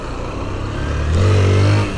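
A Honda Fan 160 motorcycle idles on a street, then its engine revs up sharply and holds a loud, rising drone as the rider lifts into a wheelie, close to the microphone.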